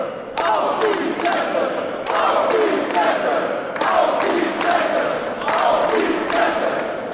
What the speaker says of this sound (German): Man hört schon das Publikum in Papenburg.